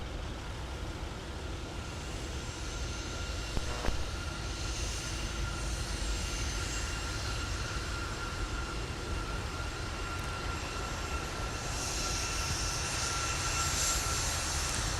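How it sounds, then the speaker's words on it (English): An Embraer regional jet taxis past at Minneapolis–Saint Paul airport in freezing winter conditions, its engines giving a steady, broad roar with a constant whine that holds throughout and swells slightly toward the end. No one speaks. "an Embraer passing in front of us"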